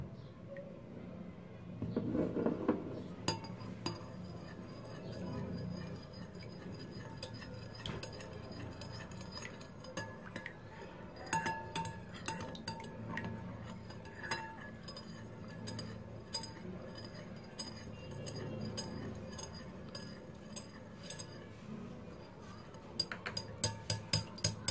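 A spoon clinks against a glass bowl while mixing homemade hand sanitizer with oil: soft scraping and stirring, then sharper, quicker taps that bunch up toward the end, fairly quiet and close.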